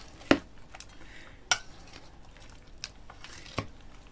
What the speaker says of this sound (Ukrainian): Тепер все це необхідно обережно перемішати.